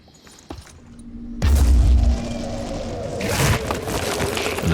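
Grenade blast in the tactical video game Phoenix Point, a sharp heavy boom following a short click, then a rumbling debris-filled tail that swells again briefly.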